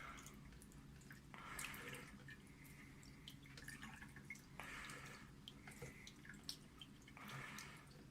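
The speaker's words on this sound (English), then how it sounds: "the mirror now is in the sink, and I am pouring water over it" Water pours and trickles over a 12-inch telescope mirror resting in a sink, a faint, steady splashing stream with brief louder surges and scattered drips, quiet and close.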